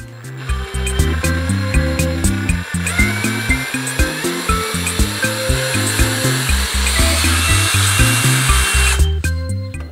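A power drill running in reverse to back out a bit from wood runs in short, stuttering bursts of grinding whir, pulsing on and off repeatedly, loud and close, then stops abruptly near the end.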